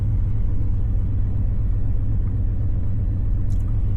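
A 1986 dually pickup truck with a Holley Sniper fuel injection idles close by after a cold start, a low, steady rumble with an even throbbing pulse, holding constant throughout with no revving.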